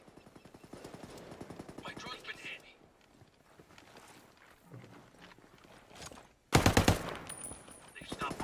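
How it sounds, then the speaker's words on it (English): Rapid automatic gunfire bursts in the tactical shooter Ghost Recon, crackling under a calm radio-style voice, with a sharp loud volley near the end. "I hear gunfire."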